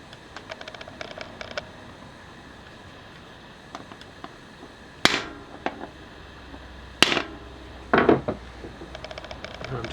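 Hammer blows on a drift tool braced in a block of wood, knocking out a BB30 bottom bracket bearing on a Cannondale Synapse Alloy bicycle: three sharp metallic strikes spaced a few seconds apart over faint background clatter.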